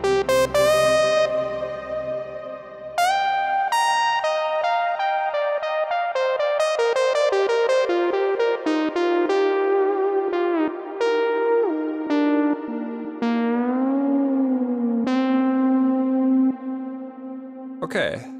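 Synth notes washed in a spacious, modulated reverb from the Parawave RAPID plugin's space algorithm, a slow melodic line with long shimmering tails that blur together, sustained and smooth throughout.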